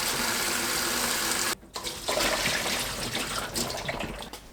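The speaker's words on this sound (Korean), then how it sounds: "불린 콩을 물에 헹궈서 체에 받쳐 준비합니다." Tap water runs steadily over soaked beans in a strainer as they are rinsed, a close, continuous splashing rush that briefly cuts out and then resumes.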